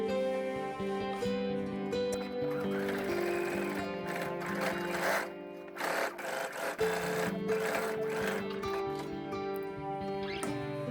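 A sewing machine stitches a stretched knit waistband back onto shorts with a steady rapid mechanical whir, close and continuous, pausing briefly midway before running on.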